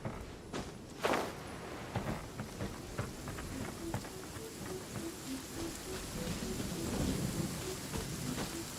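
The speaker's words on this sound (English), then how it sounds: "It always rains when I go on an adventure." Steady rain falls in Genshin Impact while a loud thunder crack breaks early on, then rumbles on under the downpour, with a pattering footstep rhythm throughout.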